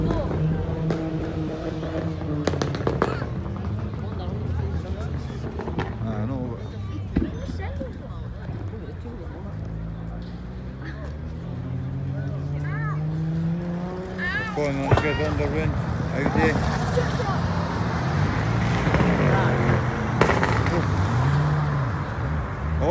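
A Ferrari at a summer car meet in Glasgow drones with a rising and falling engine note, sweeping upward as it revs and passes, while people talk loudly nearby over the crowd.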